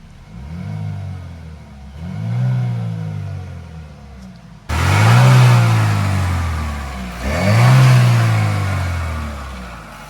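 Chevy Equinox third-generation 1.5 liter Ecotec turbo four-cylinder engine revs up in four rising and falling swells, the later two louder and closer, with no talk.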